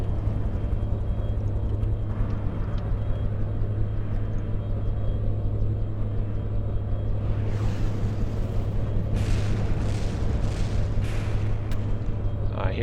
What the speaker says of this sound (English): I hear explosions! What's blowing up this time?